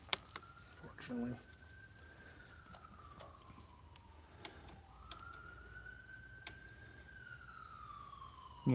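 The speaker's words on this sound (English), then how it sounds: "Yep, it's ambulance." A distant ambulance siren wails past in long rising and falling sweeps, faint behind quiet surroundings outside a workshop, with scattered small knocks and a bird.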